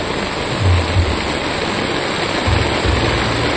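Floodwater surging across a flooded road in Ubaliw, Polangui, Albay, Philippines, during heavy rain, a steady broadband rush like a river with low rumbles underneath, continuous and fairly loud.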